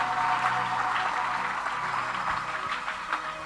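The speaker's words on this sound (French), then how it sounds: "Applaudissez" An audience at a church children's skit about the ministry of Jesus claps steadily throughout, a dense, even wash of applause at moderate level with no pauses.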